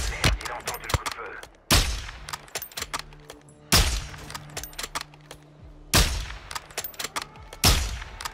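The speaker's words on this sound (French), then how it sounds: "il a entendu le coup de feu." Several sharp sniper gunshots in a video game ring out at irregular intervals, loud and punchy, with game sound effects and a steady hum between the blasts.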